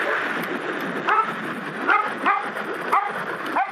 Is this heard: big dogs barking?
yes